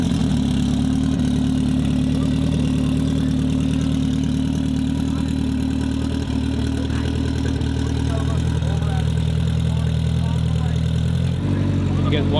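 A high-powered street car at a drag racing event idles with a loud, steady, throbbing rumble that stays even throughout and shifts briefly near the end.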